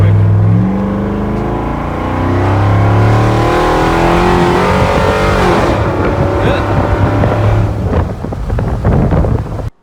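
A Dodge 2500 pickup engine is revved hard at wide open throttle, loud and close. The pitch climbs and rises again in surges before cutting off abruptly, and no one speaks.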